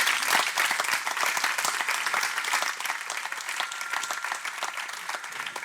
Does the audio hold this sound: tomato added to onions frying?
no